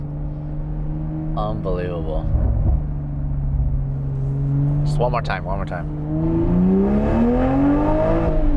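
HKS ultra-widebody Toyota A90 Supra concept with its exhaust revving in sport mode, a loud continuous drone rising in pitch as it accelerates, heard from inside the car under excited talk.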